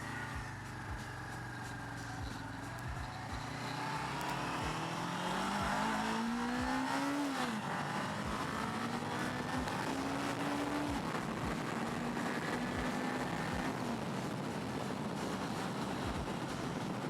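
A Honda CBR 500R motorcycle engine pulls hard uphill, its pitch climbing steadily through a long acceleration with a continuous buzzing drone and heavy wind rush, close and loud, with no voices.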